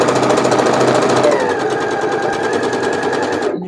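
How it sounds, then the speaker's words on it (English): A domestic sewing machine sews a quarter-inch seam on quilt half-square triangles, running loud and close in one continuous whir that eases slightly in pitch before cutting off abruptly. "I line up the corners, and then I sew a 1/4 inch"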